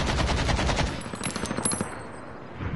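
Rapid automatic gunfire in a first-person shooter video game, loud close bursts of rattling shots that thin into a few scattered cracks before fading out.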